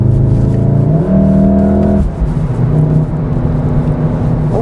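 A Volkswagen Golf R 7.5 with all-wheel drive accelerates on a country road from inside the cabin. The engine note climbs steadily in one gear, then a quick shift drops it before it rises again, loud and close with no talk.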